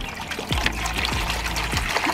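Water is poured into an ice maker at a campsite: a close, continuous trickling pour with a few bubbling gurgles, with no talk over it.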